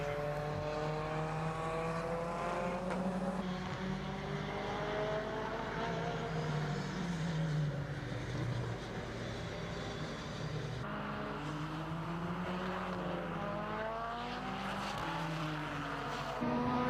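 A Honda Integra Type R DC5 race car at a Brands Hatch time attack event, its engine revving hard with steadily rising and falling pitch through gear changes. The engine note is loud and continuous, and no voices are heard.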